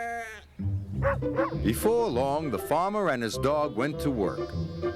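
A narrator speaks over a noisy flock of bleating sheep, with a dog barking now and then.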